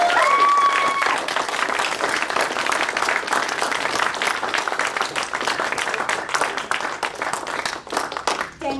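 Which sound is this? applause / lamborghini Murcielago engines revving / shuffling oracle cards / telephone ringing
applause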